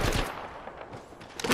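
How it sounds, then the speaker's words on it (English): Distant video-game gunfire: a handful of faint, scattered shots and short bursts crackle at low volume across a second and a half, with no voices. "Fire, getting shot at."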